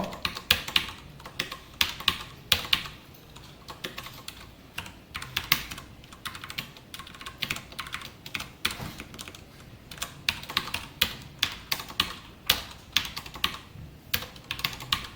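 Code being typed on a computer keyboard during a Python programming lesson: steady, quick keystroke clicks close up, continuous and uneven in rhythm with occasional heavier key presses, no speech.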